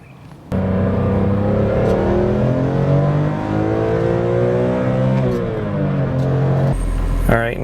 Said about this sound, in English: First step you want to do is take the M3 for a spin.